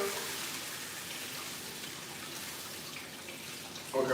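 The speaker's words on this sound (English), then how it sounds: "Okay, we got the water in." Steady water splashes and pours into a cooking pot holding chicken bouillon, a continuous broadband rush that holds for several seconds before a brief louder slosh at the end.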